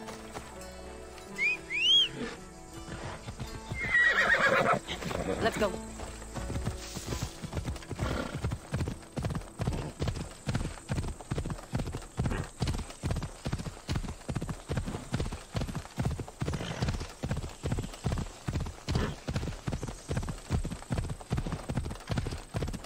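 Horse hooves clip-clop in a steady, repeated gallop rhythm in an ancient Greece assassin adventure video game, with a whinny early on and brief speech near the start.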